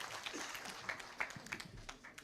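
Crowd at a political aspirants' meeting in Trans Nzoia claps in a faint, scattered patter of applause, heard from a distance with uneven bursts.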